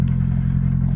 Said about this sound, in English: it has a big hole in the exhaust, so it sounds loud and just bad, but anyways, it's idling on its own